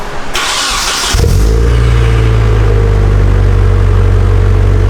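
A Nissan 240SX engine with an HKS Hi-Power aftermarket exhaust cranks briefly, then catches and settles into a loud, deep, rumbling idle close by.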